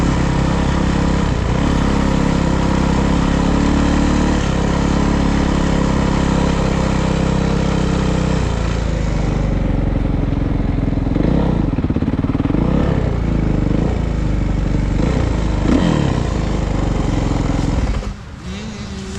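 Kawasaki KX450 dirt bike with A-Kit suspension being ridden, its engine droning loud and close throughout, rising and falling in revs as the throttle varies, before dropping off slightly at the very end.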